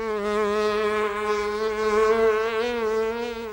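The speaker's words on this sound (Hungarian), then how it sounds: "Nem akármilyen légy zümmög" Continuous droning buzz of a housefly from the Oscar-winning Hungarian animated short by Ferenc Rófusz, a steady, close, loud hum with slight pitch wobbles throughout.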